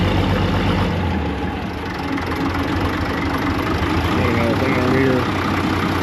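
A Case 930 tractor with a foot throttle runs close by, its engine a loud, steady, rough idle that holds constant for several seconds.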